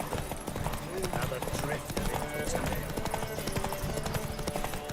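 Horse hooves gallop in The Witcher 3, a steady clip-clop rhythm running throughout under someone talking and game sounds.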